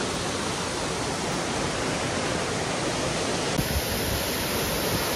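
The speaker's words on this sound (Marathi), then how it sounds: "इथे आमच्या मागे आहे धबधबा" A waterfall close by, producing a dense, steady roar of rushing water that fills the whole clip without pause.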